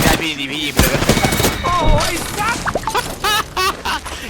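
Apex Legends gunfire bursts in rapid volleys, loud and close, mixed with game effects and excited talking voices throughout.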